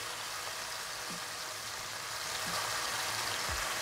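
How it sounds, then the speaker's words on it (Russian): Onion frying in a pan in a mix of olive oil and chicken juices, a steady broadband sizzle that holds throughout at moderate loudness with no talking. "на этой смеси мы обжарим наши следующие ингредиенты. Это лучок."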